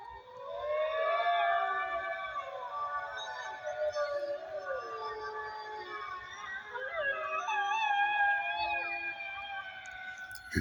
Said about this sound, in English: Something's howling with the wolves.